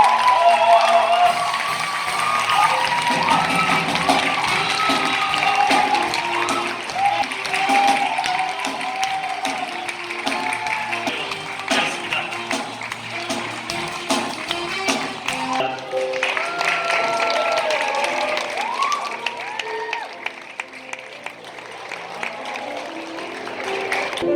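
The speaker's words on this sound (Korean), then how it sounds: "신랑 입장! 큰 박수 부탁드립니다." Wedding guests clap and cheer as the groom enters the hall, crowd applause running throughout with scattered shouts. An announcer's voice and music carry over it before the clapping thins toward the end.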